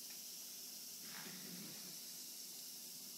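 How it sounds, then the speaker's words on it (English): A second-grade science experiment's fizzing, bubbling reaction makes a faint, steady hiss that swells slightly midway, with no voices. "It's fizzling. Can you hear it? And it's bubbling."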